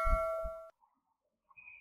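Notification bell sound effect, a single clear ding that rings out briefly and stops, followed by a faint short chime, with no speech.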